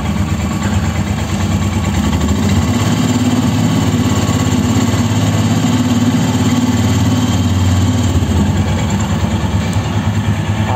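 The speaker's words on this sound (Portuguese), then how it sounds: "Olha o som do motor." A Royal Enfield Himalayan motorcycle engine idles loudly and steadily up close, a rough continuous rumble that holds without revving.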